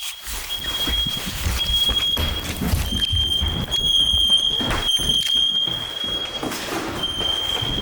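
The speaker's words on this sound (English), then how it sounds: "I think that was a fire alarm." A fire alarm sounds in an abandoned building in Hillsboro, a steady high electronic tone with repeated pulsing beeps that continues throughout, over broad rumbling background noise.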